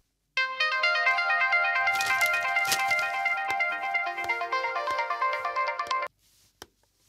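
A phone rings with an incoming call, a loud, steady electronic ringtone melody that plays continuously for about six seconds and then cuts off, leaving near silence.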